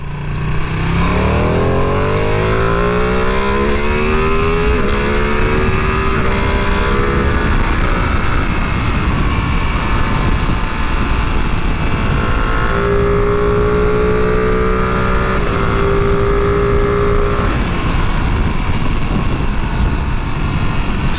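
A Ducati Panigale V2 motorcycle being ridden, its engine note rising and falling through several gear changes under steady wind roar, loud and close throughout.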